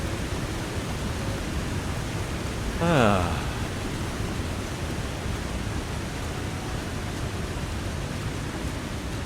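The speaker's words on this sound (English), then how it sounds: "waterfall is so damn loud." Loud waterfall in the video game The Long Dark, a constant broadband roaring rush filling the whole stretch evenly, with a brief voiced exclamation rising over it partway through.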